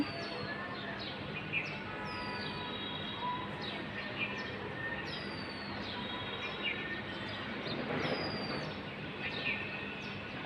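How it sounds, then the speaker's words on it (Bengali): Many birds chirp and call at dawn in a rural setting, a steady chorus of short, varied tweets at moderate distance over a constant low background hum, with no talk. "ভোরবেলা পাখির কিচিরমিচির শুনতে কি ভাল লাগে"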